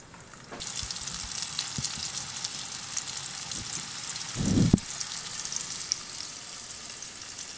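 Battered deer meat fries in hot grease with a loud, steady sizzle that starts abruptly and holds throughout, with a brief louder bubbling burst partway through as more pieces go in.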